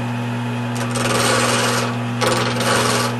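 A wood lathe spins a pen blank with a steady motor hum, while two longer bursts of rough, hissing scraping rise as the turning tool touches the wood.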